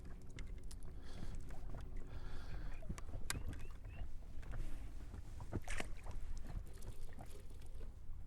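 A small fishing boat is eased into position beside a buoy on Lake Balaton in stormy weather, with steady water sloshing and low hull knocks throughout, plus a few sharp clunks of gear near the boat.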